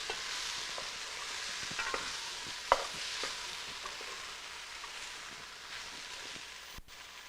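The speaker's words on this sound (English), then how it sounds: "I'm going to put a little bit of that, stir it in here." Flour being stirred into a hot pan as a thickener, with a soft steady sizzle of frying underneath and faint scraping strokes, one sharper clink near the middle, no talking.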